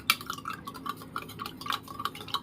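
A spoon stirs masala chaas, spiced buttermilk with pepper powder, inside a vessel, giving a steady run of soft scraping with small metallic clinks against the sides, close and fairly quiet.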